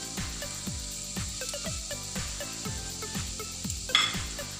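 Chopped tomatoes fry in hot oil with browned onions in a pan for okra masala, a continuous sizzle punctuated by regular scraping taps of a spoon stirring against the pan.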